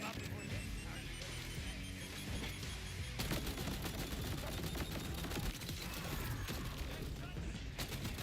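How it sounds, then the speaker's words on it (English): Rapid gunfire from the video game Borderlands 4 rattles in dense automatic bursts, loud and continuous, with a voice talking over it. "Alright, so I'm shooting this here."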